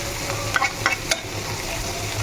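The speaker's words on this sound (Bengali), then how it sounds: "এখন মাছটাকে একসাথে মিক্স করবো।" Fried pangas fish tossed and stirred together in a hot pan, a few sharp spatula scrapes and clinks over a continuous close sizzle.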